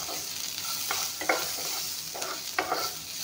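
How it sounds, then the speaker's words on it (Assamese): Vegetables frying in a pan for a shingara recipe, a steady sizzle with two sharper bursts of stirring clatter, close and alone. "এইখিনি অলপমান ভাজি ল'ম।"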